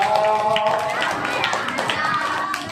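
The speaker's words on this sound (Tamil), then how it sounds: "எல்லாம் ஜோரா வரும்போதே கைத்தட்டி கொண்டு வரணும்" A crowd claps in rhythm along with group chanting at a Kamba Ramayana discourse gathering in a village, steady close hand claps under sustained sung voices.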